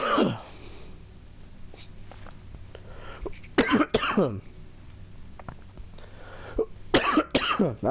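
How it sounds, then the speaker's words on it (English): A person breaks into a coughing fit: a few harsh coughs, then a pause, then another cluster of loud, close coughs near the end, with faint breathing and quiet game sounds between them. "I think I'm about to start coughing fits"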